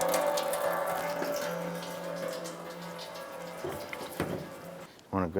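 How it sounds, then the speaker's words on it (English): Coolant drains from a 1994-2004 Chevrolet S-10 during a water pump replacement, pouring steadily into a drain pan underneath with a continuous close splashing trickle that fades slightly, followed by a few clicks and handling noises near the end. "Let the system drain out."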